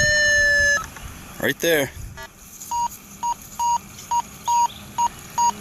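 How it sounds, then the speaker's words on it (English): A Minelab Go-Find 60 metal detector sweeps over a buried penny, giving a steady run of about eight evenly spaced mid-pitched beeps, with a person speaking briefly and some handling noise before the tones start. "Okay, another rock solid penny signal here."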